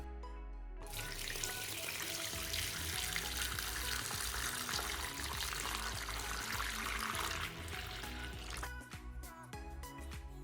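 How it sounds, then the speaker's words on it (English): Tap water pours steadily into a container holding a Redmi Note 8 Pro phone, a continuous close rushing splash that runs for several seconds before easing into quieter trickling. "And now I'm gonna start the timer and start filling up the water."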